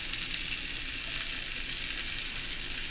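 Hot dogs sizzle and crackle steadily on a grill, a continuous hiss close by with no voices.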